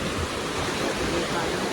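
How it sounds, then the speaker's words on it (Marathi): A waterfall in Khadkona village pours in a dense, continuous rush of falling water that stays loud and steady across the whole moment. "एक दुसरा धबधबा इकडे पण आहे"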